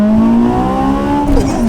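A heavily modified 2002 AP1 Honda S2000 with J's Racing and Spoon parts accelerates hard, its engine note climbing steadily into a loud, close, rising wail with a brief shift near the end, over wind and road noise.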